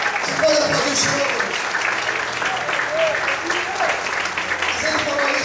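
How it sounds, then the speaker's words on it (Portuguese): A church congregation keeps clapping steadily, a broad wash of many hands, while voices shout and speak over the applause the whole way through. "Você pode aplaudir o Senhor."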